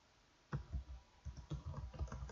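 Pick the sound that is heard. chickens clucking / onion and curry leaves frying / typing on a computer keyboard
typing on a computer keyboard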